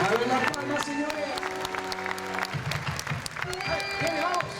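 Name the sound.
audience clapping along to Argentinian folk dance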